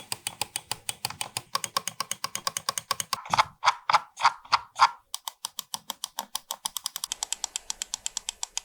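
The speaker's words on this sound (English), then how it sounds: "the Light Force switches are Logitech's hybrid optical mechanical switches" Logitech G Pro X Superlight 2 gaming mouse Light Force hybrid optical-mechanical switches clicking close up: a fast, steady run of crisp, slightly hollow clicks, a slower set of heavier presses in the middle, then rapid clicking again.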